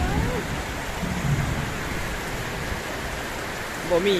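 Heavy rain pours steadily in a dense hiss with a low thunder rumble underneath; a brief voice surfaces near the end.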